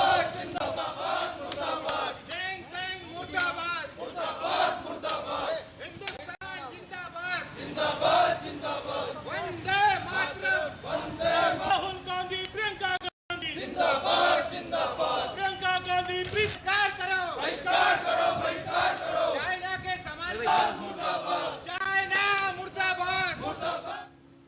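A dense protest crowd chants slogans against China in Haridwar, Uttarakhand, loud and continuous with shouted rhythmic voices overlapping throughout.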